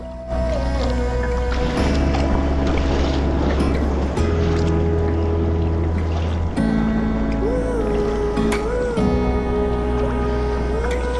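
Sea waves wash and break around a sea kayak off Longstone in the Farne Islands, a steady close rush of water and wind carried under loud background music throughout.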